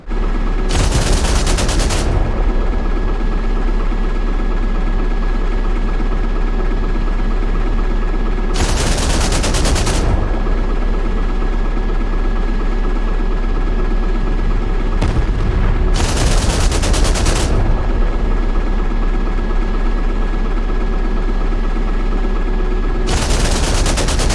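A war video game with a drone swarm attacking NATO air defenses. Four loud, separate bursts of rapid anti-aircraft cannon fire punch through a steady, droning background of game noise.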